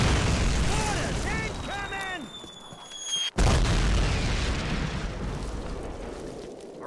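Mortar shells land in a Call of Duty battle, loud booming blasts with rumbling debris that drop out to a brief hush before the din resumes, with soldiers shouting over the noise.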